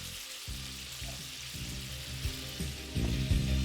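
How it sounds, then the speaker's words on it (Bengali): Chicken shallow frying in a pan for garlic chicken, a steady close sizzle and crackle with a few low bumps, no voices. "আমি এটাকে শ্যালো ফ্রাই করছি"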